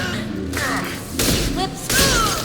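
In the video game Mass Effect 2, a high-impact shot is fired: heavy booming thuds in three bursts, with sweeping tonal effects and some voice mixed under the gunfire.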